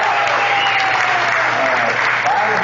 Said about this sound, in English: a great big round of applause to the McCurtain County Rural Fire Department for preparing